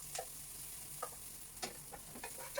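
Onion frying in a pan for Filipino pansit guisado chicken noodles: a faint, steady sizzle broken by a few light clicks and stirring scrapes, quiet and close, with no talking.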